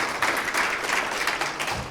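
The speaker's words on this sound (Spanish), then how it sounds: "Un aplauso para el Señor porque Él vive." Applause from a church congregation during an Easter sermon, a steady dense wash of clapping for about two seconds, fairly loud and close, with no talk over it.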